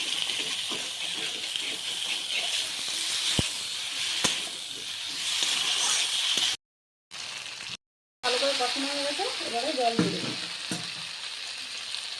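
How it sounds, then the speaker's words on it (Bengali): Spicy masala paste for a bhetki fish curry with taro stolons frying in oil in a pan, a steady broadband sizzle with stirring scrapes, broken by two short silent gaps and followed by a voice talking briefly over the frying. "মশলাটাকে একটু কষে নিতে ভালো করে"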